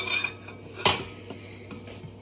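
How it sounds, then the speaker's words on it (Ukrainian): A fork stirs and clinks against a dish. One sharp metallic clink stands out, followed by a few softer scrapes and taps in a quiet room. "Тепер можеш мішати. Ні, не ложкою, а виделкою треба."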